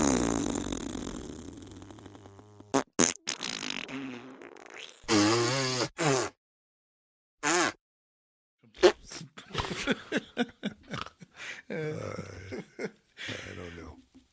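A long series of loud, wet, sputtering fart sounds, separated by silent pauses, some drawn out and others short, close and dry with no speech.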